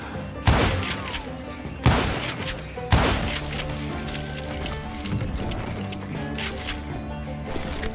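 Gunfire in Call of Juarez Gunslinger, with three sharp loud shots in the first three seconds over a busy layered game mix of music and effects, then a steady bed of scattered softer bangs.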